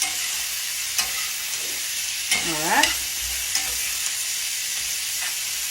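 Sausage sizzles steadily in a skillet, a constant close frying hiss broken by a few light scrapes of stirring, and a voice briefly speaks over it.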